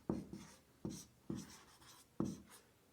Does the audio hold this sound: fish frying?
no